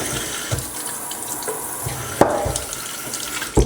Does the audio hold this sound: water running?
yes